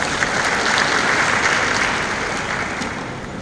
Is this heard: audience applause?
yes